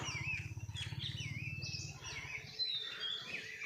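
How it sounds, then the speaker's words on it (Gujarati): A koel calls in a forest, faint whistling and chirping bird notes heard from a distance, with a low pulsing rumble underneath early on and quiet surroundings. "કોયલનો અવાજ આવે જો"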